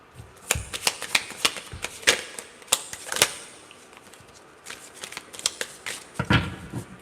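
Tarot cards being shuffled by hand, a run of crisp riffling slaps and papery flutters in irregular bursts, close and fairly quiet, with no talking.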